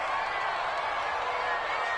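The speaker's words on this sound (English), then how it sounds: "the crowd getting into it as we come up on a big third down" Roaring stadium crowd noise in an American football video game, a steady broad wash of cheering that swells ahead of a big third-down play, loud and continuous with no distinct claps.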